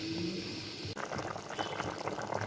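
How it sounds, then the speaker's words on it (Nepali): A vegetable curry bubbles in a black karai. A steady close simmering gurgle takes over after a brief moment of quieter background sound. "अब यसलाई म उम्लिन दिन्छु"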